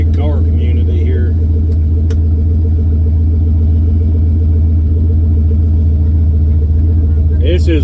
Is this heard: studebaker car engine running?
yes